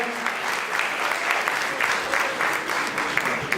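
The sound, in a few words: audience applause at faculty celebration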